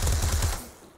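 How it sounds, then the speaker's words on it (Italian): Rapid automatic gunfire from the online shooter game Krunker.io, a loud run of quick, closely spaced shots lasting about half a second before fading out, with no talking. "si sente di più lo sparo"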